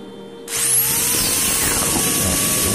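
A power drill starts up abruptly and bores steadily into an RC truck tyre hub, a loud continuous whine and grind that runs close and alone without any talk.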